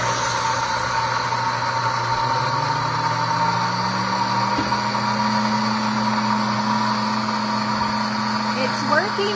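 An electric coffee grinder runs continuously while grinding a whole bag of beans, a loud steady motor whine with a faint pitch shift partway through and a constant grinding hiss.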